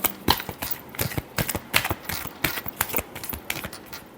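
Tarot cards being shuffled by hand, a close series of quick papery riffles and taps in an uneven rhythm.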